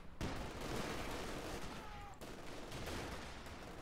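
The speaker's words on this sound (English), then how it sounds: "I heard a grenade go off" Explosions and gunfire from a Company of Heroes 2 battle, with a grenade going off amid a dense, continuous roar of shots and blasts at steady loudness throughout, with no talk.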